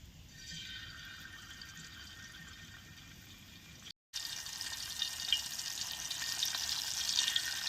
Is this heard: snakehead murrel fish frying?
yes